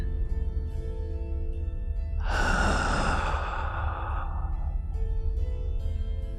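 A single deep, slow inhale of someone breathing in the scent of another person's hair, close and intimate, rising and fading over about two seconds against a soft, steady background tone.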